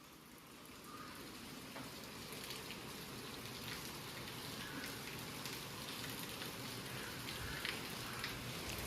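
Steady rain falls in a soft, even patter with scattered individual drops, faint and continuous throughout, with no voices.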